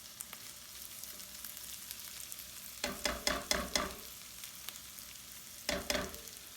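Potatoes fry in a pan for a frittata with a steady low sizzle, broken by a quick run of four or five louder scraping stirs midway and another pair near the end.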